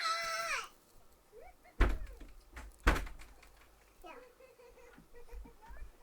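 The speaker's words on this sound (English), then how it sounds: "So you banging on the door like the house is on fire for that?" Two heavy, booming thuds of someone banging on a door, spaced about a second apart and loud against quiet room sound, with a voice and other talk faintly around them.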